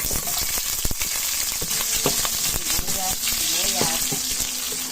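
Onion sizzles steadily in hot oil in a pan for spinach cooked with sardines, with crackling frying and occasional stirring scrapes throughout, close and moderately loud, no talking.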